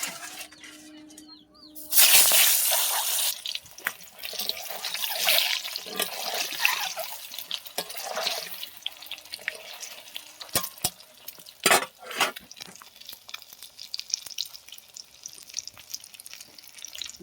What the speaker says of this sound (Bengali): তেল গরম হয়ে গেছে, ডিমগুলো দিয়ে দেবো।